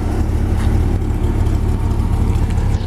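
A 1955 Chevy Bel Air two-door hardtop resto-mod with a 350 V8 runs steadily, a loud, deep, even rumble close by with no talk over it.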